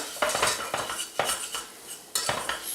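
A spoon scrapes and clinks rhythmically against a pot while food is stirred together with tomato sauce, a series of close, bright metallic strokes roughly every half second with no talking.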